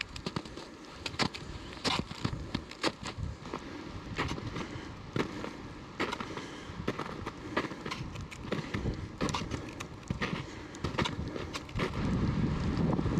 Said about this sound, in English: the wind has picked up a lot